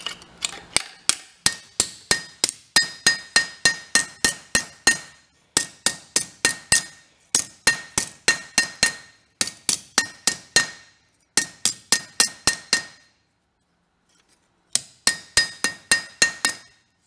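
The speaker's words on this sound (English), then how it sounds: "I'm gonna try hammering it flat and see if we can get it to go get straightened out." A bent backhoe part is hammered flat, giving sharp metallic clanks in rapid bursts of repeated blows separated by short pauses, loud and close, with no talking.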